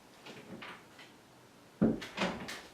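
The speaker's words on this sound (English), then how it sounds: "Oh, look, hold on. Door." A door opens or closes nearby during a repair job, heard as a sudden wooden knock followed by a couple of shorter rattling thuds after a quiet stretch.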